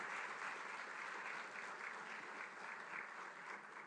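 An audience claps steadily for dignitaries on stage at a higher-education event, dense continuous applause heard from a distance at an even level throughout.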